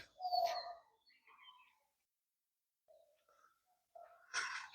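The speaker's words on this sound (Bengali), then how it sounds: "পাখির কলহল চারদিকে ভেসে বেড়াচ্ছে" Sparse bird calls in a quiet morning garden: a couple of short chirps and coos, separated by near silence, fairly faint and distant.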